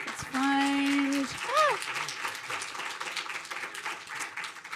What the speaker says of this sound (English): let's give our first team a round of applause